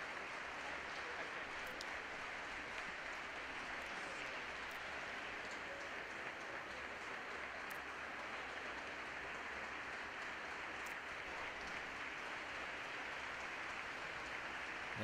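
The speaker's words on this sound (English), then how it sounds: "all the divers and crowd on their feet congratulating Hannah Thack on a solid competition" A diving competition crowd cheers and applauds in a continuous, even wash of clapping and noise that lasts throughout, heard from a distance in a large indoor arena.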